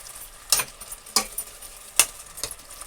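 Ground tomato paste sautéing in a pan, a faint low sizzle punctuated by four sharp metallic spatula taps spaced about half a second to a second apart, close and without talk.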